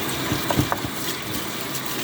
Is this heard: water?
yes